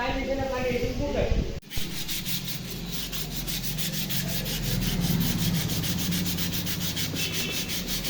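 Sandpaper rubs over the primed and puttied body panel of a TVS Wego scooter in fast, even back-and-forth strokes, a close rhythmic scratching that runs continuously after a brief pause near the start.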